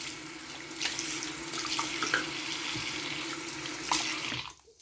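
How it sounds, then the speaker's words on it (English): Hot water runs steadily from a kitchen tap into the sink in a home, a continuous close splashing rush that drops away abruptly near the end. "I know I just ran some hot water"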